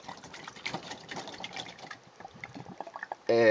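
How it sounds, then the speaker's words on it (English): Baking soda and vinegar are poured into a balloon and shaken, giving a continuous wet sloshing and gushing of liquid that ends in a brief louder burst. "just pour everything in that balloon, give it a nice big old shake"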